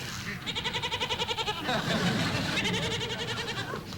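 A goat bleats in rapid, quavering bursts, pauses, then bleats again, loud and close.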